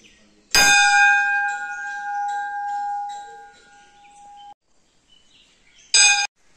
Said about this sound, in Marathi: मागे घंटा वाज.